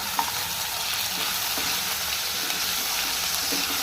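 Ginger garlic paste frying with onions and curry leaves in a pan for a mirchi gravy curry, a steady, close hiss of sizzling oil with faint stirring scrapes throughout and no talking.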